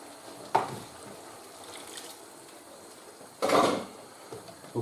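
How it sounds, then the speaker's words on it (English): Water splashes into a pan of tikka masala sauce made with tomato puree, with two short pouring bursts, one early and a longer one later, near and moderately loud, amid light kitchen handling noise. "And then in goes the 200 millilitres of water."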